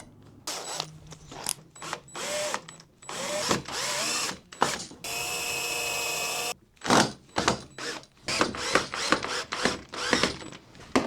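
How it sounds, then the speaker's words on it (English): A power drill drives screws into imperfect wood, a series of short whirring bursts with pauses between, plus one longer steady run; fairly close and fairly quiet, with no talking. "I'm just going to put in a couple of screws and go back and forth."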